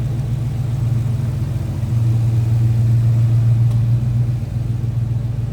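A 2013 Dodge Charger SRT8 Super Bee's 392 Hemi V8 idles close by, a loud, steady low rumble that swells slightly partway through with no talking.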